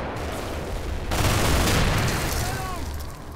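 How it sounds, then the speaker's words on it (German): A 60mm mortar shell strikes in Combat Mission, a broad rumbling blast that swells mid-clip and then rolls away into a noisy tail, fairly distant and moderately loud. "Das war der erste Einschlag von unserem 60er."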